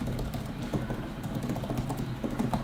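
Steady typing on an Apple iPad Magic Keyboard, soft muted key clicks in a fast continuous patter, close up with no voices.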